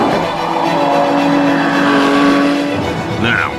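A Jaguar F-Type sports car's engine roars loud and close, a sustained throaty drone that swells and eases, with a brief tyre squeal near the end.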